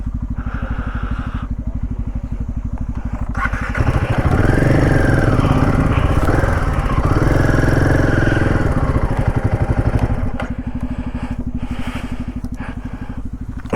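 A motorcycle engine runs up close on a trail route to Khaliya Top in Munsiyari, idling with a steady chugging pulse that revs louder and rougher in the middle before settling back to idle.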